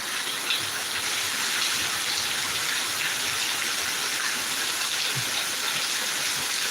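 Heavy rain pours steadily in Thiruvananthapuram, a dense, even hiss of downpour that holds at the same loudness throughout with no voices.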